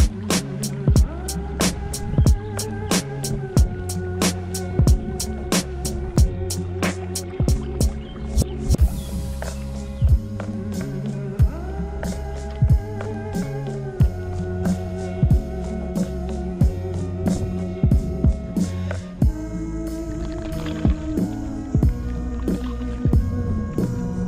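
Rowing a boat on a lake during a solo carp fishing trip in France, oars knocking and splashing in a steady repeated rhythm, with water dripping and squishing close by and no talk.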